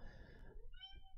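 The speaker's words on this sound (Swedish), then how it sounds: "Jättehungrig katt." Hungry pet cat meowing once, a short, faint, close call that rises then falls, followed by a soft tonal trailing note.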